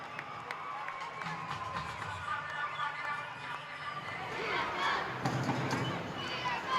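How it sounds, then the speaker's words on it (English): A stadium crowd at a rugby sevens match in Sri Lanka roars and cheers for the home side, a rising swell of shouting voices in the background, with a commentator talking over it. "The crowd cries out for Sri Lanka"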